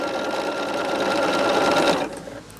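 A sewing machine runs steadily for about two seconds, stitching large quilt triangles, with an even motor whir and rapid needle chatter that then stops abruptly, leaving a faint hum.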